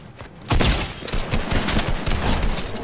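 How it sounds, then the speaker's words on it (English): Tommy gun firing in a Fortnite match, a loud sustained burst of rapid automatic shots that starts about half a second in and rattles on to the end. "I just killed a guy with the Tommy gun"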